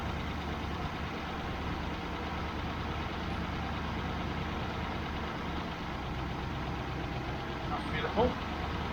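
A Triumph Stag engine fitted with twin Stromberg CD175 carburettors idles steadily at close range, a continuous low rumble with no change in rhythm, and a brief extra noise near the end.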